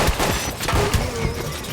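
A burst of gunfire in a Hindi horror audio drama: several quick, loud, close shots crack over a dense, noisy background in rapid succession.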